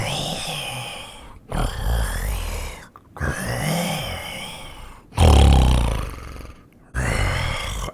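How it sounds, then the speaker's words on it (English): Loud, rough snoring from a large creature echoes through a cave in a fantasy tabletop game, coming in long rumbling breaths separated by short silences, the fourth swell the loudest. "you guys can hear this kind of loud snoring sound."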